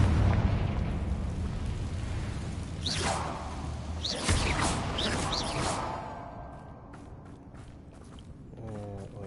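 The Confringo blasting spell goes off in the video game Hogwarts Legacy, loud booming explosions with whooshing bursts and crackling debris that fade out toward the end.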